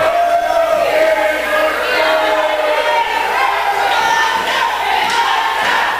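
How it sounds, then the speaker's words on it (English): Crowd at a BCW wrestling semi main event chanting for the wrestler called the Butcher, a loud, continuous roar of voices with rhythmic rising swells and occasional thuds beneath. "The crowd's getting the Butcher chant going."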